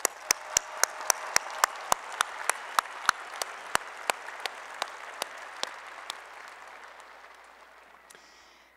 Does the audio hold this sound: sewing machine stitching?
no